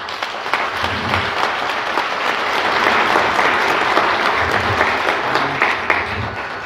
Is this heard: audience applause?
yes